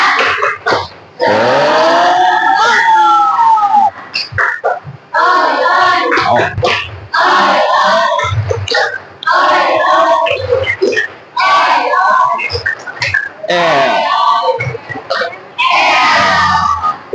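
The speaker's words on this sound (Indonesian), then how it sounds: "Tepuk semangat." Students at a vocational high school clap a spirit chant in rhythmic bursts, with claps and shouted voices in a classroom, loud and close, broken by short pauses.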